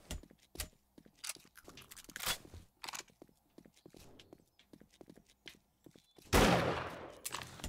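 Gunfire in the survival video game 7 Days to Die: a series of separate sharp shots spaced irregularly across several seconds, with a louder, denser burst near the end.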